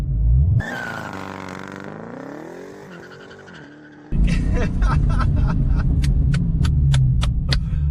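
Dodge Demon's 6.2-litre supercharged V8 with line lock engaged: a loud rev climbing and sagging, then a sudden heavy roar with rapid sharp bursts of rising engine noise.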